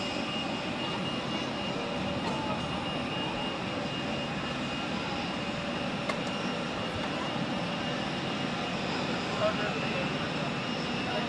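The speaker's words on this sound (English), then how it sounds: "Clear for takeoff, runway 16, Emirates 87" An Emirates jet airliner takes off from runway 16 at Zurich Airport, its engines a broad, steady roar held for several seconds at a distance, unbroken and even throughout.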